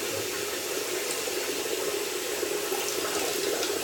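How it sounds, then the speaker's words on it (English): Tap water runs steadily while a lathered shaving brush is rinsed under it, a continuous close hiss and splash with no talk. "Washing my brush. because it holds so much lather, I really have to give this a good rinsing"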